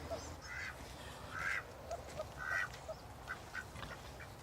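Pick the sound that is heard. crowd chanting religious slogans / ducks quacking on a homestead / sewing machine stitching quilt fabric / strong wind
ducks quacking on a homestead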